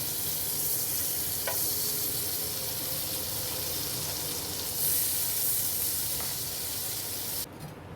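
Butter sizzles and fries in a pan while pav bhaji is cooked, a steady close hiss with a couple of faint clinks and a brief drop near the end, with no talk.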